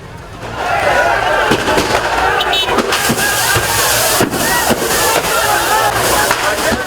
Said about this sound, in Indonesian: Beberapa kali terjadi ledakan berasal dari salah satu bengkel servis AC.